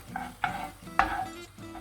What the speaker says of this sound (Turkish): Biberlerimi az yağda biraz yumuşayıncaya kadar soteleyeceğim.